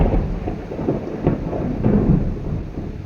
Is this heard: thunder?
yes